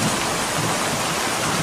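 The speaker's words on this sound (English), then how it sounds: "it started pouring rain outside" Heavy rain pours down steadily outside a large weekend market in Thailand, a dense, loud, unbroken hiss with no voices.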